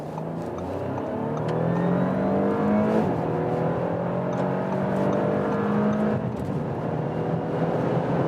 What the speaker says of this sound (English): nice acceleration from the 3-liter 6-cylinder engine